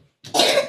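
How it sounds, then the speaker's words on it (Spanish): A single sharp, close cough that bursts out abruptly and lasts about half a second. "Buena tos."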